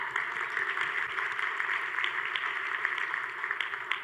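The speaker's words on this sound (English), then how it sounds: "That deserves a clap." Faint, continuous clapping from a distant audience, a soft even patter with scattered sharper claps and no voices on top.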